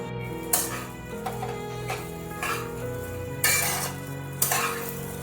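Spices for Jagannath's Kanika rice fry in a pan, a soft steady sizzle broken by several sharp scraping strokes of a spoon stirring against the metal.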